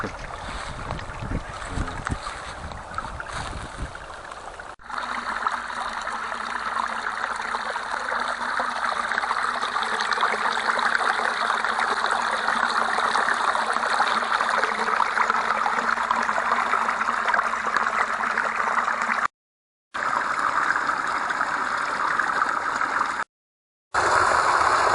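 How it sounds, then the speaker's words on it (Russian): Forest stream with water flowing, a broad continuous rushing and trickling wash that holds steady for the whole stretch, close and fairly loud, with a rougher passage at the start and two brief dropouts near the end. "Лесной ручей."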